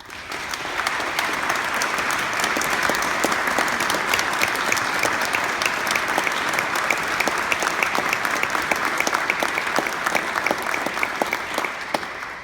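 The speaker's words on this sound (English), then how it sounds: "I think the applause is fitting tonight" Sustained applause from a large audience at a divinity college convocation ceremony, steady and dense for the whole stretch, with a few louder individual claps standing out near the front.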